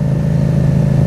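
A Yamaha FZ-07 motorcycle with a carbon-titanium slip-on exhaust runs close by, throwing out a loud, deep, throbbing exhaust note in one brief burst.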